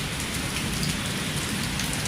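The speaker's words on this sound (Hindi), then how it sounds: "तो धोबी आज पहली बार बारिश देख रहा है।" Steady rain falls continuously, a dense even hiss of drops on surfaces with no voices.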